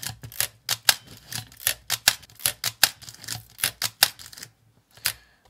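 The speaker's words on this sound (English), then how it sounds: "I want to kind of show you what happens as I advance click through this roll of film." A manual analogue film camera being wound on, a fast series of crisp, close mechanical clicks and ratchet snaps in irregular bursts that stop abruptly near the end, with one last click after a short pause.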